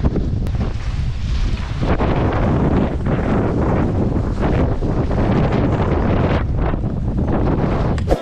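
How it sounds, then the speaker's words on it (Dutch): Strong wind roaring and buffeting the microphone steadily throughout, loud and close, with no talking, on a ski slope in Austria. "Er is zoveel wind dat we moeten stoppen met skiën."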